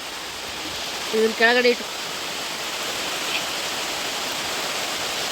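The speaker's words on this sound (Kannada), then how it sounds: "ಫುಲ್ ಜೋರಾಗಿ ಬಂತು ಮಳೆ" Heavy rain pours steadily over an areca plantation as a dense, even hiss, while someone speaks briefly near the start over the downpour.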